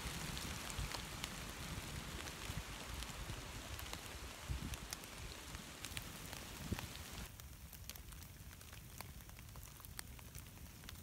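Steady rain patters outdoors on a cold, wet day near a burning campfire, a dense, even hiss with scattered sharp drops and crackles, and no voices.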